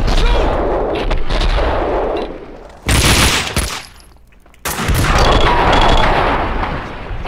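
Heavy gunfire from the video game Max Payne 2: loud sustained bursts of shots, a brief pause, then another dense volley and a final long barrage, close and harsh.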